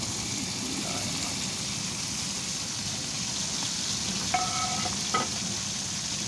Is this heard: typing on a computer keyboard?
no